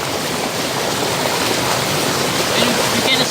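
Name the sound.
water falling at a creek side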